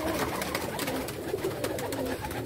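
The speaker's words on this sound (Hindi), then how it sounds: "ये टोपी वाले कबूतर, इनको 35 वाले कहते हैं।" Cap-headed pigeons on an evening rooftop loft coo in a dense, overlapping murmur, close and steady without a break.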